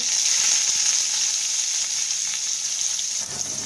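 Cumin, chili and chopped onion frying in oil in a pan for a spicy pointed gourd dish, giving a steady loud sizzle with a bright hiss and faint crackles throughout, no talking.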